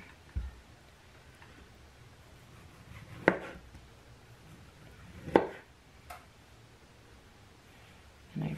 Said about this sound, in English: And I try to just cut around the core.